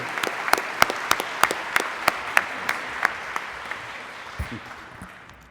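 Applause at a university scholarship brunch honoring awardees: sharp individual claps in a steady, fairly loud rhythm, tapering off toward the end as the room quiets.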